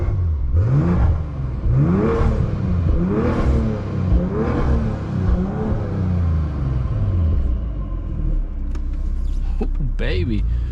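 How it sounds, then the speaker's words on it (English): A BMW M340i engine with a catless downpipe revs repeatedly, rising and falling in several loud surges up close, then settles into a rumbling idle with a few clicks. "I might as well give y'all some free revs just cuz."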